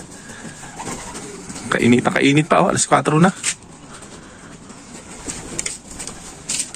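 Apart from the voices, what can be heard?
racing pigeons cooing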